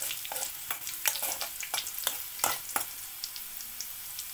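Fresh curry leaves stirred into gooseberry pickle frying in a pan, with a steady close sizzle broken by sharp spatula scrapes and clicks; no talking.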